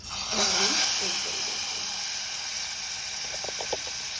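A spiced tempering hits hot dal with a loud hissing sizzle that swells quickly and then settles into a steady, fading fizz, with a few faint clinks near the end.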